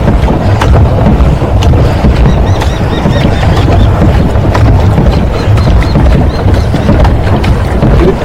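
A diesel-motor boat at Sittanavasal chugs along on the water with steady loud engine rumble and wind buffeting, occasional splashes and knocks over the continuous drone.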